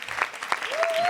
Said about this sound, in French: j'aimerais qu'on applaudisse Éléonore, qui est peut-être dans la salle